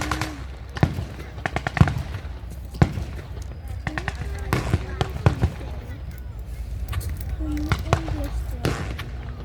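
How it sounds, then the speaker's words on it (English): Grenade blasts and gunfire at a WW2 tank museum battle reenactment, sounding as scattered sharp bangs and pops spread across the scene, some close and loud, with a commentator talking over them throughout. "He's just throwing a grenade."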